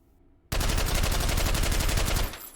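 Suppressed FAL rifle fired in rapid succession in the VR shooter H3VR: a dense, loud stream of muffled shots lasting about two seconds, then a sharp cutoff with fading tail.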